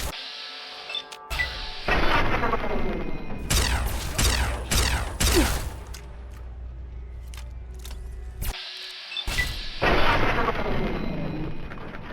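Battle gunfire in Fallout 3: bursts of shots and explosive blasts come in clustered volleys, loud and close, separated by brief quieter gaps and a sudden drop near the end before the shooting resumes.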